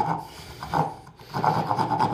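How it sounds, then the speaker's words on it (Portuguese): A round drill bit circles inside a hole in a thin piece of wood, widening it with rasping, grinding scrapes in short close bursts and a brief pause between them. "Agora eu só vou completar aqui com a broca roliça, em volta."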